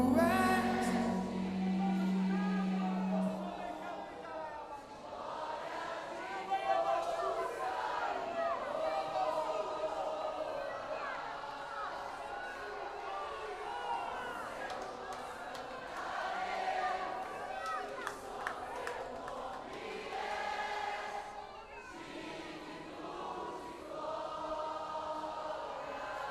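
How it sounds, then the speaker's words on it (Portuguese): A church congregation raises a loud, sustained wall of voices, cheering and singing together in a big worship gathering, the crowd noise swelling and easing continuously throughout. "Aumente o barulho da igreja."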